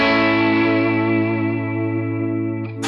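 Electric guitar on a clean setting through a Fractal FM3 modeler, a single sustained chord ringing out and slowly decaying with a chorus-like shimmer, ending in a sharp string noise.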